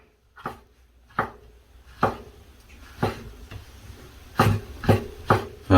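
A knife slices shiitake mushrooms on a board, about eight separate slicing strokes at an uneven pace, close and fairly quiet, with no talking.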